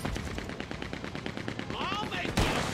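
A Gatling gun in Red Dead Redemption 2 Online fires a fast, continuous burst of loud, evenly spaced shots, with a sharp heavier impact near the end.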